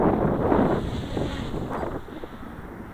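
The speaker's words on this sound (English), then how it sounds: "Wind's kicking my ass." Strong outdoor wind buffets the microphone in a steady, roaring rumble, loudest early on and easing slightly toward the end, with no talking.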